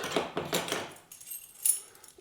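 Keys for an FJ Cruiser keychain jangle in a few quick metallic shakes up front, then clink faintly and sparsely as the sound fades into near silence.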